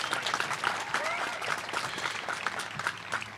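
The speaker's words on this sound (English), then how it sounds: "That's right, it deserves an applause." A crowd at a college commencement ceremony applauds, with dense, steady clapping filling the hall and faint voices mixed in underneath.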